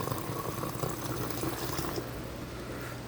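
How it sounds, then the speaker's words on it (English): Carbonated water pouring steadily from a dispensing machine, a continuous broadband splashing rush that holds even and fairly loud, thinning slightly toward the end. "So now we're going to dispense the water,"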